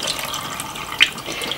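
Brown button mushrooms being rinsed under a running kitchen tap, a steady broadband splash of water with a brief brighter spatter near the middle, fairly close and alone with no voices.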